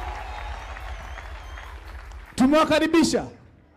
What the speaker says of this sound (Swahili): Tupigie kanisa letu la Narok mwapi shangwe na vigeregere kwa Yesu.